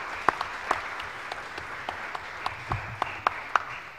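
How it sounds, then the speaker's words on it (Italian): Applause from a lecture audience, a steady wash of hand clapping with a few sharper near claps standing out, moderate and even over about four seconds. "un applauso lo merita."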